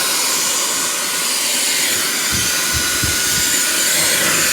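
Hair blow dryer running continuously, a loud, steady airy hiss held close for several seconds with faint low thumps of handling beneath it.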